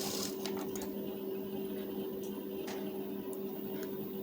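A sewing machine stitching a blouse plate with a half-inch seam allowance runs with a steady, close motor hum and faint needle chatter, alone and unbroken for the whole stretch.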